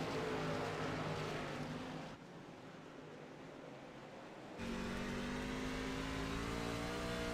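Dirt track racing trucks in a SHARP 50 race at USA Dirt roar past loudly, their engines fading briefly mid-clip before a second truck charges in with rising, revving tones.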